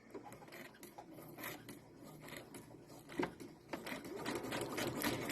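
A sewing machine stitches steadily toward a fabric corner, its motor whirring with rapid needle clatter throughout, growing slightly louder near the end with no talking.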